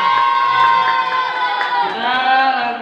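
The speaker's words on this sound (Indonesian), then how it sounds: "Kasih tepuk tangan untuk tim C." An audience, including young voices, cheers and shouts loudly for a team at a school competition event, a dense continuous crowd roar with whoops lasting a few seconds.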